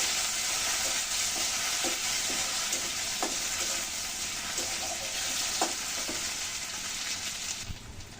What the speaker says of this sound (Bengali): কাঁচা লঙ্কাগুলো দিয়ে দিলাম, ভালো করে ভেজে নেব।